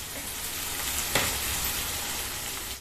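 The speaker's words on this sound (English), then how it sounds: "And roast it until it turns brown. Because garlic has to be roasted properly" Garlic roasting in a hot pan for rice gives a steady, close sizzle and crackle throughout, with one brief sharp clatter of stirring partway through.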